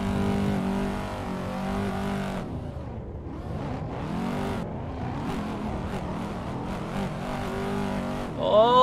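A drifting car engine in the street car pack of a racing game, likely a C7, played on a steering wheel. It holds a loud, sustained roar that drops and surges with gear and throttle changes, and a revving climb at the end.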